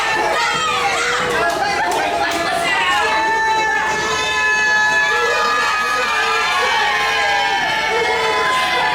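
A wrestling arena crowd roars at the PWA event, a dense sustained mass of cheering, whistles and shouting voices that stays loud and busy throughout with shrill whoops rising above the general din.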